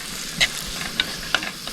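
Tomato, onion, curry leaves and a chili fry in a pan at a forest campsite while a spoon scrapes through them in four or five quick strokes over a soft, steady sizzle.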